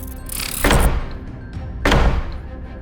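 Two heavy door slams, a horror-story sound effect, each a loud deep thud with a ringing tail, spaced about a second apart over a dark ambient drone.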